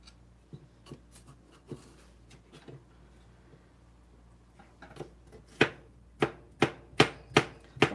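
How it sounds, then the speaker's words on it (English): Bell peppers roughly chopped with a knife on a board in a home kitchen while cooking Indian dal: a run of sharp, close knife strikes, sparse and light at first, then a louder, steady series of evenly spaced chops. "Again, just roughly chopping up peppers."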